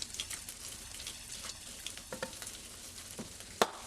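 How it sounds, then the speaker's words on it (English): Bacon gently frying in its own rendered fat in a pan at a controlled temperature, a quiet steady crackle and spit with scattered pops and one sharper snap near the end. "The fat is at a safe controlled temperature and is gently frying both"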